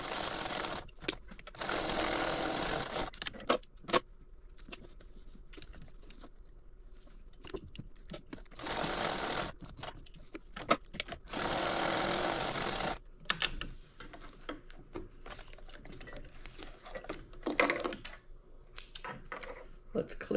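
A sewing machine stitches the seam of a small fabric purse in short, rapid whirring runs separated by pauses, close and fairly quiet, with someone talking in between.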